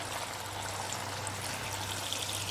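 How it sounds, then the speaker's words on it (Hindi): Water pours steadily into a pot of mutton curry in a continuous, soft splashing stream, close by, with a low hum running underneath. "1 गिलास पानी मैंने इसमें डाल दिया है।"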